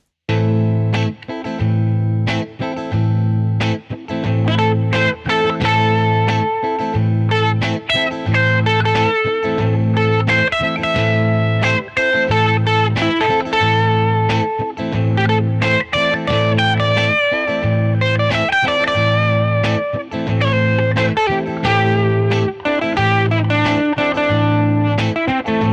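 Electric guitar with distortion and chorus effects plays minor pentatonic phrases over a minor chord, with a repeating low accompaniment underneath and sustained, ringing single-note lines throughout.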